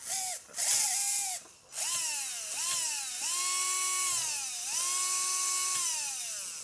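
Small 1989 Optima Mid Custom Special model motor whining at high pitch, starting in short bursts, then running steadily with rising and falling pitch sweeps as it revs, close and fairly loud, no talking.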